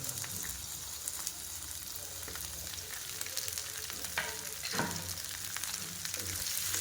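Chopped onion and capsicum fry in hot oil for a simple vegetable sabji, producing a dense continuous sizzle and crackle close by, with occasional scraping stirs and a brief louder pop midway.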